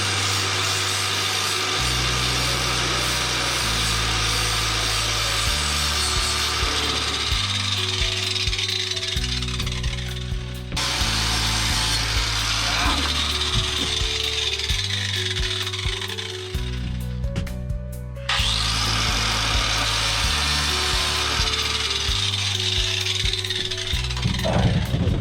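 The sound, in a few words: angle grinder on drilled hole in van roof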